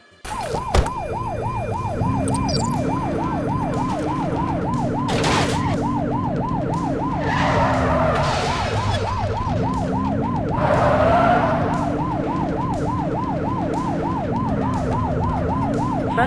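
Police car sirens wail in a steady, continuous rising-and-falling cycle during a pursuit in The Precinct, loud and close, with a second lower siren tone layered underneath and brief engine bursts in between.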